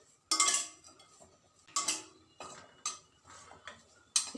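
Ingredients for homemade chutney powder dry-roasting in a pan, with a few sharp scraping and clinking bursts of a spoon or spatula against the metal separated by quieter gaps, close and fairly soft.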